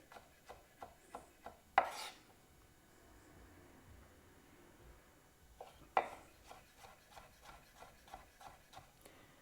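A knife chops food on a cutting board during taco, guacamole and salsa prep, with quick rhythmic taps in two bursts, each opened by a sharper knock, all fairly faint and close.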